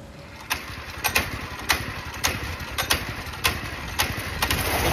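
A small engine runs with its choke partly on, a steady drone broken by sharp uneven pops roughly every half second, fairly close.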